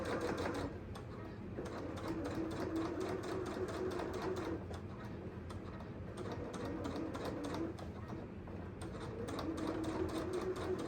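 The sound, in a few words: sewing machine top stitching a book tote bag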